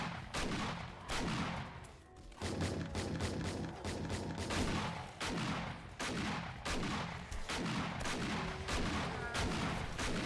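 Heavy gunfire in the zombie survival game 7 Days To Die, modded, with rapid repeated shots in loud bursts separated by brief pauses.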